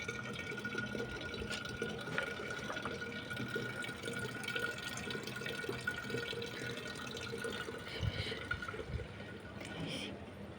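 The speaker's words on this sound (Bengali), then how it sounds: "কতক্ষণ বেশি ভরবে একটু একটু পানি পরে" Rainwater from a rooftop trickles and drips steadily into a clay pitcher, a thin continuous pour with faint background murmur and occasional louder splashes.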